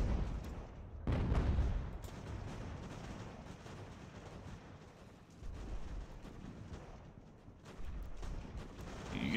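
Massed musket volleys from troops in Ultimate General: American Revolution, a rolling, crackling battle roar that swells and fades in several waves, with heavier bursts near the start and middle.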